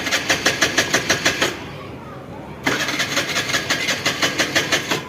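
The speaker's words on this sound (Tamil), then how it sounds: "நமக்கு காலில் ஒரே அடியில் ஸ்டார்ட் ஆகிடுச்சு" Kick-started motorcycle with about 6,600 km on it, whose self-starter fails, running with a quick regular putter that dips briefly to a rough lull before chugging on, close and loud.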